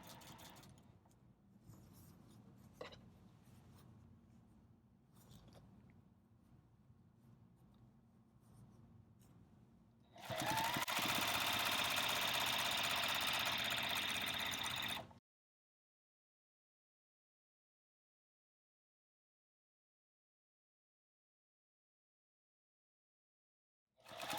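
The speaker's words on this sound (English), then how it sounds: "Okay. And then I'm going to sew back towards the edge here." A sewing machine stitches binding onto a quilt, running in one loud, steady whirring burst of about five seconds after quiet handling noises, then stopping.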